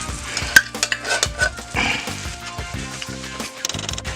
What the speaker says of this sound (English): And we're going to stir this up in here real good with the onions.